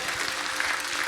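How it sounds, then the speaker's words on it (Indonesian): A church congregation claps to welcome first-time visitors, producing a short burst of steady, moderately distant applause. "bisa berikan tepuk tangan"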